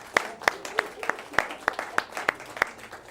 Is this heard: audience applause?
yes